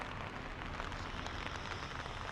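Steady rain falls on outdoor surfaces around a hot-spring resort town, a continuous even wash of patter with no breaks, moderately loud and alone.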